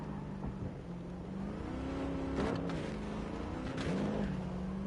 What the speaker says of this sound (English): This car does sound quite nice, I have to admit